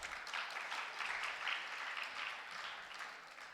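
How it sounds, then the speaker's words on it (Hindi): An audience at a spiritual discourse claps together in a soft, fairly distant patter of applause that swells and eases in waves over a few seconds. "कैसे ताली बजाई आप लोगों ने।"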